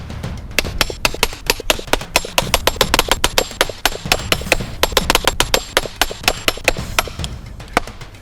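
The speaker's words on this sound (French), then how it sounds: "C'est d'utiliser du métal contre du métal, parce que ça l'abîme grandement." Metal repeatedly striking the metal of a Solognac bushcraft axe, a dense run of sharp, close clanking hits in quick uneven rhythm, loud and without speech.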